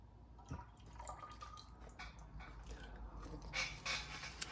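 Liquid is poured off an MRE rib-shaped BBQ pork patty, giving faint close dripping and splashing that thickens into a brighter trickling stream toward the end.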